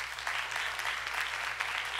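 Church congregation applauding during a Sunday service, a steady wash of many hands clapping at moderate distance, fairly quiet and continuous without speech.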